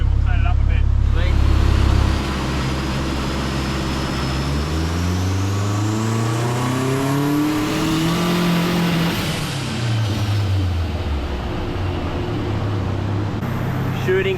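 Turbocharged Honda K24 engine with boost turned up revving hard, a loud climbing rev that peaks and falls back, close, with a voice over it.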